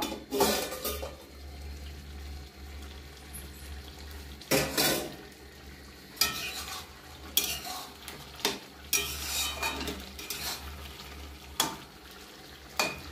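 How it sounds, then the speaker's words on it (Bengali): A pot lid lifted while watermelon rind curry cooks, with a steady low simmer throughout and several bright metallic clanks and scrapes of lid and spoon on the pot, close and loud, scattered every second or two. "এবার আমি ঢাকনাটা খুলে দেখব।"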